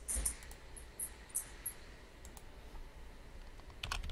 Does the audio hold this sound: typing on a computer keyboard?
yes